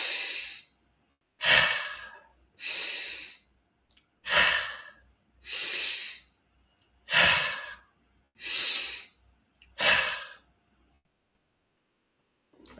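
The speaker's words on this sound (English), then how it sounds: "First, we pump a lot of oxygen into our lungs." Deep breathing exercise with about eight slow, strong inhalations that fill the lungs, each a breathy rush about a second long, evenly spaced with short pauses between them, close and clear, with no talking.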